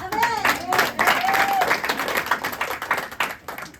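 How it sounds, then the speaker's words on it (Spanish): A church congregation claps for a pastor dressed as a soldier. Steady, moderately loud applause plays under whistles and shouted voices. "Un aplauso al soldado"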